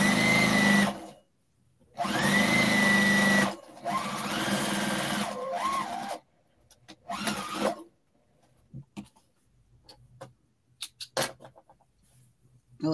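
A sewing machine stitching in a pocket runs in several loud, steady bursts with short pauses, then gives way to scattered clicks and handling noises.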